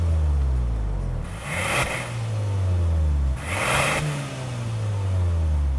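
A 2022 Hyundai Santa Cruz with a 2.5-liter turbo four-cylinder accelerates, its engine note rising and dropping twice through gear changes, with whooshing bursts of air noise between the pulls.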